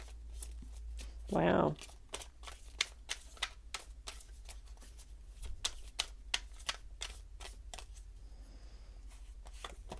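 Tarot cards being shuffled and drawn: a dense run of crisp riffling clicks and snaps that carries on through most of the stretch, with one short spoken exclamation near the start.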